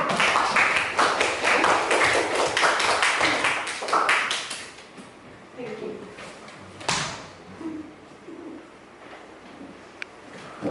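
Classroom applause from a group of students, dense rapid clapping for about four seconds that then thins out into scattered claps and a few sharp knocks, with some talk in the room.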